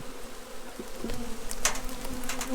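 Honey bees buzz around freshly built comb, a steady close swarm hum with individual bees droning past near the microphone and no talk.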